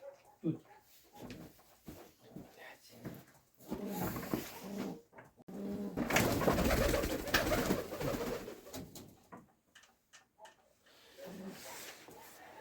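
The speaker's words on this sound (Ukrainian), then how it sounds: "Ось вона перша пара голубів" A pair of pigeons coo close by in a new pigeon loft over a rustling background, with a loud flurry of noise swelling in the middle before settling back to soft cooing.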